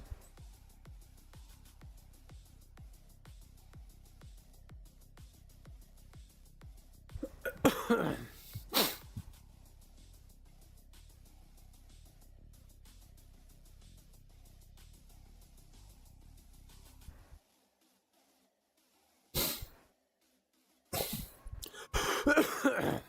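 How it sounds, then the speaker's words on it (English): Several sharp coughs after eating, close and fairly loud, come in two bursts separated by a long stretch of faint game audio, with a brief silence before the second cluster. "every time I eat, I always get a cough a little bit."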